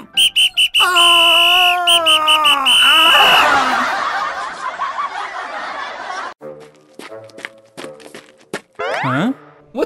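A shrill, piercing personal alarm whistle blasts in short bursts, then wavers in pitch over a noisy stretch, followed by more clattering sounds and scattered whistle tones.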